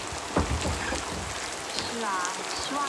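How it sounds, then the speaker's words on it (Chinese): Heavy night rain falls on a mountain village in a steady broadband hiss, with a few louder knocks near the start and brief faint voice-like tones later. "真下雨了"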